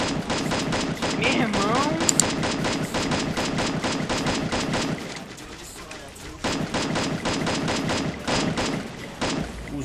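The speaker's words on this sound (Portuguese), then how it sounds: "Fica aí atirando aí que eu atiro daqui, mano." Rapid bursts of gunfire from the Free Fire video game, continuous volleys with a short pause midway, loud and dense, while a player briefly shouts over it.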